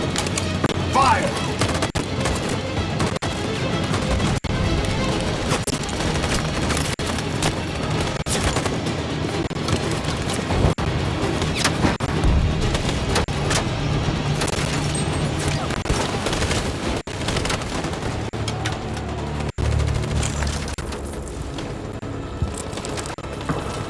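Dense gunfire from the video game Detroit: Become Human, rapid volleys and bursts rattling continuously and loudly through the whole stretch, with voices speaking over the shooting.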